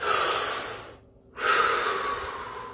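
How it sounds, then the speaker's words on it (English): A person draws one deep breath during a guided relaxation exercise: a loud, close airy inhale, a short pause, then a long audible exhale, with no talking. "Drop your hands to your sides, take a deep breath"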